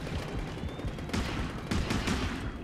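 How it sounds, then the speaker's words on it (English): Pistol fire in the underwater shark game Depth, several sharp shots popping out of a busy background, including a clustered pair near the end. "Dude, I'm using the pistol."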